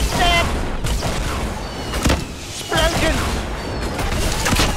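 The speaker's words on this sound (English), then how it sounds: "Shoot all your rockets!" Rocket launches and explosions crash through a chaotic Fortnite high explosives duo match, several loud booms and bursts arriving in close succession under excited shouting voices.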